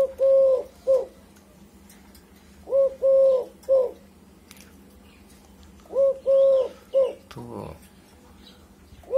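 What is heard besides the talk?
cooing emerald, spotted and Eurasian collared doves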